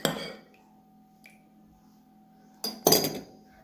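A spoon clinks against a glass while seeds are stirred into a watermelon summer drink, with a sharp clatter at the start and a louder burst of clinking near the end, a faint steady hum underneath.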